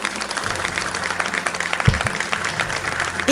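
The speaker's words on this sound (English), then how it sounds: "Let's give them a big round of applause." An audience at an awards ceremony applauds the gold award winners for fundamental research, a moderate, even wash of clapping with a single thump partway through.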